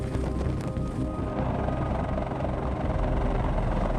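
A US Marines CH-53 heavy-lift helicopter drones with a steady, loud rotor and engine roar that holds evenly throughout, with rumbling low-end wind noise and no pauses.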